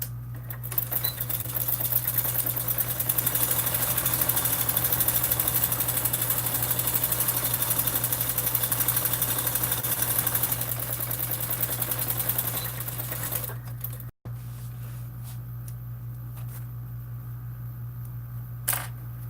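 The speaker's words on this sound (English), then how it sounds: "I'm just going to sew it without the clips." A sewing machine runs steadily, stitching the side seam of a Swoon Maisie bag without clips, a continuous close whir with a strong low motor hum for about fourteen seconds before stopping, leaving a quieter room hum.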